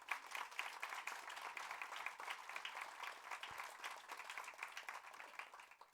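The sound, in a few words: audience applause for the singer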